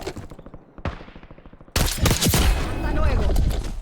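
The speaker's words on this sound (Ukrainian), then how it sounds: "О, десь поруч постріл." A rapid string of gunshots pops in the video game Warzone, followed by a louder, sharp burst of gunfire close by with a lingering roar.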